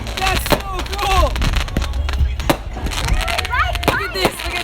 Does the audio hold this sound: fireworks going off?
yes